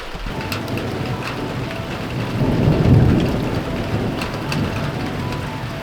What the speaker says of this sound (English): Whilst I'm waiting for the rain to die down